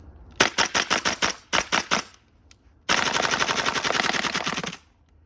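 Tokyo Marui MWS gas blowback airsoft rifle running on a propane magazine, firing two loud rapid bursts of about eight and four sharp cracking shots, then a brief single pop and a long sustained full-auto string close by.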